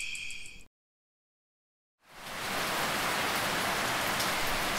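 Rain in a Minecraft game with the SCP: Dystopia addon: after a short tone and a cut to silence, a dense, steady hiss of rainfall swells in and continues loudly and evenly.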